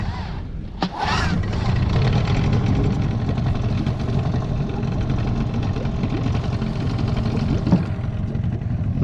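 New Sharmax two-stroke outboard motor catching after a brief sputter, then running steadily with a loud, close, buzzy engine drone and a faint knock, outdoors on a cold morning.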